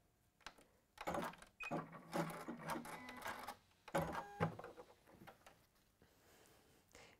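A sewing machine top-stitches around a felt piece a quarter inch in from the edge. It runs as faint, close mechanical whirring in two short stitching runs separated by a brief pause, then goes quiet.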